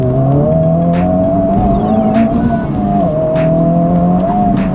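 Honda Civic Type R FL5 pulling hard through first, second and third gear, its engine note rising and dropping with each shift while the tires spin and squeal, loud and close throughout.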